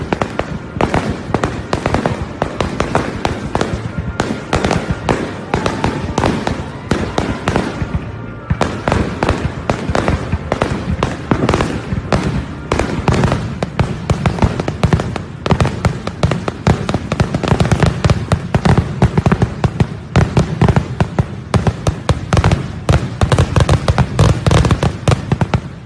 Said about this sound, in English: So this I'm gonna give him some fireworks right now.